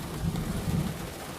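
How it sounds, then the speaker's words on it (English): Steady rain falls outdoors with a low rumbling, thunder-like drone running beneath it, fairly loud and continuous with no voices. "it is raining out here now."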